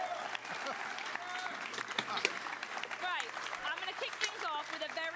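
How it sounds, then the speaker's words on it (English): Sustained applause from an audience at a Gamescom 2019 event fills the room, dense clapping continuing throughout with voices talking over it. "I'm going to ask you for another round of applause"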